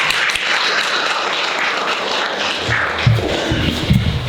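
An audience at a filmmakers festival applauding, a dense wash of hand clapping that fades slightly toward the end, with a few low thumps and some shuffling noise underneath.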